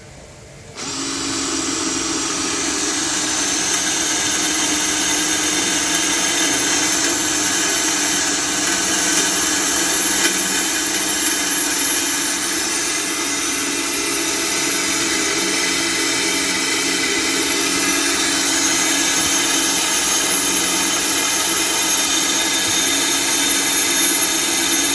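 A Bitec CSR 12-2 cordless drill bores into a 3–4 mm steel plate at speed 2, a steady high whine running loud and continuous for the full span after a brief quiet start.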